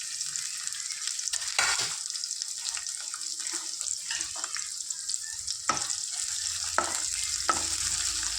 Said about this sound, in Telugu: దీన్ని కొద్దిగా ఫ్రై చేసుకుందాం